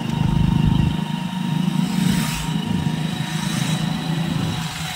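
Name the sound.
motorcycles passing on a forest road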